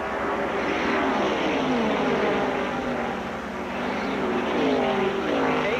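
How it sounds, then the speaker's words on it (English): Stock cars race in a bunched pack during a 1982 125-mile qualifier, a loud sustained roar of engines with Doppler sweeps as cars pass. "Cars all in a bunch, still continuing to try to sort out this second 125-mile qualifier."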